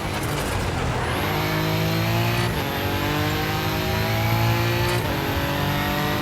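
Toyota rally car engine at full throttle during a championship rally stage, loud and close with rising harmonics, briefly dipping twice as gears shift before climbing again, steady and continuous throughout.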